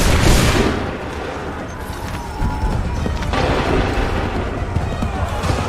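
A volley of musket gunfire in Assassin's Creed 3, a loud broad blast opening the moment and then a dense, rumbling battle din of shots and booms continuing throughout.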